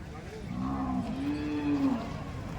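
A bullock at a livestock market lets out two drawn-out, low moos in close succession, fairly near and clear over a soft background murmur.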